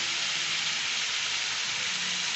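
Potatoes sautéing with salt in a pan for sada aloor tarkari give off a dense, even sizzle that hisses steadily and close up, with no break and no voices.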